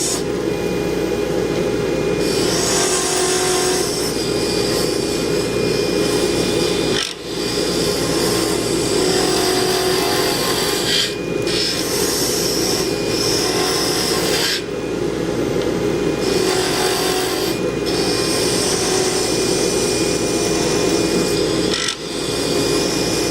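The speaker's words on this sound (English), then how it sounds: "I'm going to turn the lathe on. The lathe is now on. And I'm going to carve a little bit." A wood lathe turns a diamond-painting pen blank in a garage while a tool carves it, a loud continuous rasping scrape that runs for over twenty seconds with a few brief breaks where the cut lifts off.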